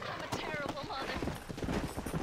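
Horses galloping in Red Dead Redemption, a rapid irregular patter of hooves mixed with game ambience and a voice speaking over it, moderately loud and close.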